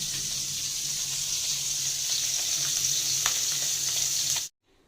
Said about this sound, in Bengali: পেঁয়াজ কেটে রাখছি, আর একটু রসুন দিচ্ছি, এগুলো ভুনা করবো